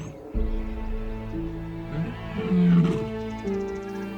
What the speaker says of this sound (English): Both male and female lions demonstrate ownership of territories with roaring